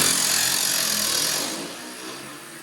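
Power driver with a T40 Torx bit spinning out screws from a Harley Tri Glide fender, a steady close whirring buzz that eases off slightly toward the end.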